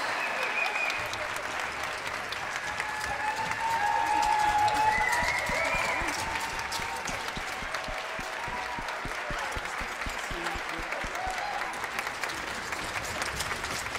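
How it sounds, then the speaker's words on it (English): An audience applauds cloggers at a symphonic band concert, steady sustained clapping from a large crowd that swells briefly midway and then holds level. "One more big round of applause for All-American Cloggers, please."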